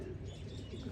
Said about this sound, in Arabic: كمية كبيرة من الطيور